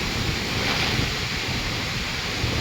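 Strong typhoon wind roars and buffets the microphone in a dense, continuous, loud rush with no pauses. No voices are heard.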